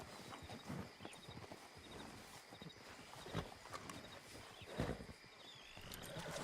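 Horses in Red Dead Redemption 2 clip-clop at a walking pace, hooves sounding faintly over quiet ambient game noise, with no talking.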